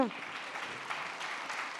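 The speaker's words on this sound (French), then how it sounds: "Vous pouvez l'applaudir, bien sûr." Audience applause at a French conference day, a steady, fairly soft patter of many hands clapping that holds evenly throughout, with a brief voice at the very start.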